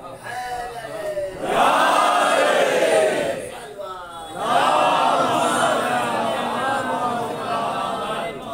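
A large crowd shouts in unison in two loud chanting bursts at a religious gathering, separated by a brief lull, voices rising and falling together.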